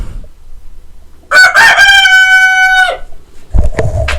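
A loud, close rooster crow rings out in one long drawn-out call, followed by a brief start of another cry.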